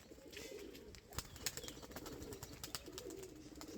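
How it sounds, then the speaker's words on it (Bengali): A pigeon with white tail feathers flaps steeply up from the ground toward a tree outdoors, giving a quick series of soft wing claps over faint ambient noise. "দেখো পায়রা খাড়া উঠে যাচ্ছে"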